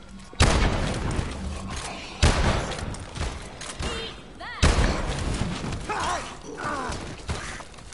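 Heavy pistol shots boom in a zombies shooter game, three big blasts spaced a couple of seconds apart over a dense bed of game mechanics and clatter, with players chatting throughout.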